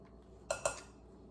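A large metal spoon handled in a kitchen, giving two quick close clinks about a beat apart over a quiet background.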